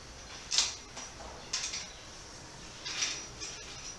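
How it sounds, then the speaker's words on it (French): A bath-shower mixer fitting being unscrewed on a shower column gives three short, faint metallic creaks spaced a second or more apart, against a quiet room. "On se dévisse comme ceci."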